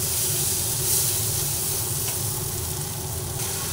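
Spices and potatoes sauté in a pan during fish-style home cooking, giving a continuous loud sizzling hiss with steady steam noise and no talk.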